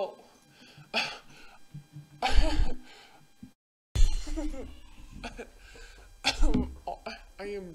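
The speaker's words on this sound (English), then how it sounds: "Dramatic coughing ensues as I attempt to be funny" Exaggerated theatrical coughing, several rough bursts spread across the clip with a short gap of silence, close and loud, mixed with vocal sounds, gasps and laughter-like noises.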